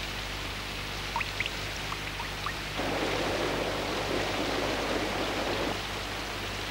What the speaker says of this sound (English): The rain was falling on Moomin Valley as though the heavens had decided to empty themselves.